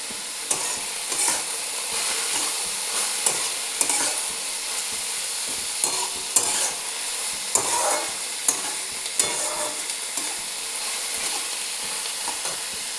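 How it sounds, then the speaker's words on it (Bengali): Onion frying in oil with sugar for a meat curry sizzles loudly and steadily up close, while a spoon stirs and scrapes the pan with periodic clicks. "পেঁয়াজটা একটু লালচে করে ভাজবো"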